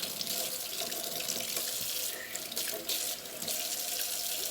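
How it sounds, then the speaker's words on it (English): Cold water runs from a kitchen tap into a sink in a steady, close, bright hiss, with small splashing shifts as the flow hits the basin. "now I'm going to turn my water to cold"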